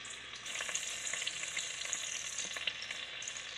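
Fat heating in a pan before frying toast: a continuous, fairly faint high crackling sizzle with small pops, steady throughout and with no voices.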